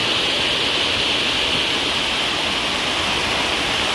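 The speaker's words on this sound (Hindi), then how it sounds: "और पत्थर इतने जोरी जोरी से आ रहे हैं, और हमारा किचन भी ऐसा भर गया है पानी से" Rushing floodwater carrying stones in a Himalayan hill village at night, a loud continuous roar of torrent that fills the scene steadily, with no voices over it.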